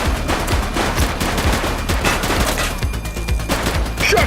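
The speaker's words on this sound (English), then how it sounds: "Shots fired!" Sustained, loud rapid gunfire in the police video game The Precinct, with dense automatic bursts and repeated sharp shots running continuously throughout.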